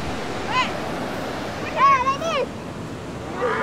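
A river at Fraser Hill rushes with a steady, broad flow of water, heard close and fairly loud, while people call out and talk over it.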